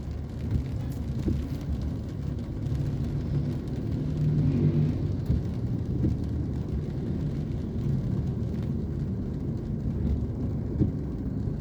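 Steady road traffic on a congested street in Imus, a continuous low rumble of engines that swells slightly midway, with no talking.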